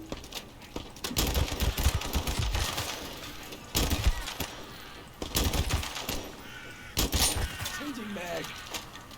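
Bursts of automatic gunfire from the video game The First Descendant, several loud rapid volleys separated by brief pauses, with some talk mixed in.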